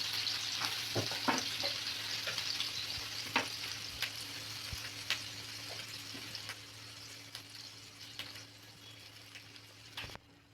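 Pesarattu dosa batter for egg pesarattu cooking on a hot pan, a continuous fine sizzle with scattered clicks and scrapes from a spatula, close and fairly quiet, tapering off toward the end.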